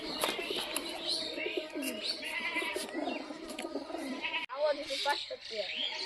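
Native domestic pigeons cooing and calling in a busy loft or market, with birdsong chirps and a goat- or sheep-like bleat mixed in, steady and fairly close under people talking nearby.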